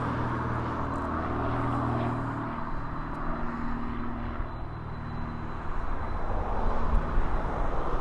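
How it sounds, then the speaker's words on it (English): A Vulcan aircraft banking away over East Midlands Airport gives a loud, steady roar of engine noise that stays broad and unbroken and swells slightly toward the end. "That was a Vulcan"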